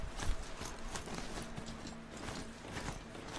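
Horse hooves clip-clop at a walking pace in Horizon Zero Dawn, a steady run of soft, close footfalls over a continuous game ambience, with no talk.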